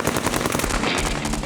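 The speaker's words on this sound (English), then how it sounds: "they were hit by a hail of bullets." Rapid automatic gunfire during an armed raid on a compound, a dense, sustained burst of close shots with no voices.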